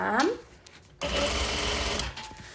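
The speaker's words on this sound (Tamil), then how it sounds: "ஒரு தாவணி தச்சு கொண்டு இருக்கிறேன்" A person speaks briefly, and then a sewing machine starts up close by, stitching a half-saree with a fast, steady hum for about a second before it stops.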